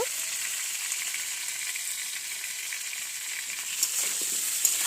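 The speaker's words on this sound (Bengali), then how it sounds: "এবারে ভালো করে এটাকে নেড়ে লাল লাল করে ভেজে নিতে হবে আলুটা" Raw potatoes with turmeric and salt fry in oil in a pan, a steady bright hiss of sizzling with a few faint stirring knocks, close and even, no talking.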